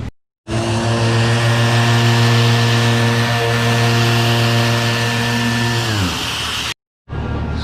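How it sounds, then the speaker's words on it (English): A Merca 3-inch DA sander with 80 grit runs steadily on body filler during a Honda CRX restoration, a loud continuous whirring drone that winds down near the end, then a brief silence before it restarts. "I'm gonna pull out this Merca 3-inch sander, the DA, with some 80 grit"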